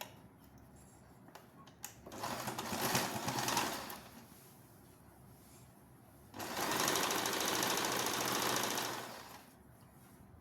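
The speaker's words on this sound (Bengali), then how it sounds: "এবার আমি সাইডটা সেলাই করে দেবো সাইডটা সেলাই করে নিচেটা মুড়ে দিলেই কমপ্লিট হয়ে যাবে নাইটিটা" A sewing machine stitching the side seam of a nightie runs in two bursts, a whirring rattle of a couple of seconds, then a longer steady run of about three seconds, close and loud with quiet gaps between and no talking.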